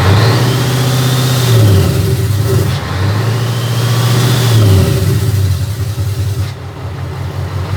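A naturally aspirated V8 engine revs loudly and close by, rising and falling in two long throttle blips with a rumbling idle between, then settling into a rough idle at the end.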